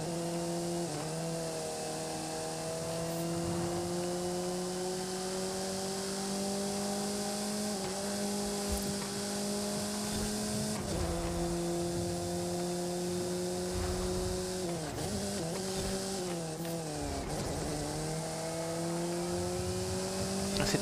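A race car revs hard through a night drift city course in Forza Horizon 5, its steady high-pitched engine drone rising and dipping with gear shifts and braking, loud and close for the whole stretch.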